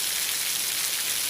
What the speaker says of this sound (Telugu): అసలు వాన దుమ్ము రేగొడుతుంది, అసలు నిలబెట్టి కొడుతుంది వాన మనుషుల్ని.